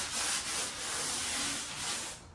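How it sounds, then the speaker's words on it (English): Sandpaper rubs back and forth across primed drywall in soft, steady strokes, close and fairly quiet, with no voices. "Just do a light sand."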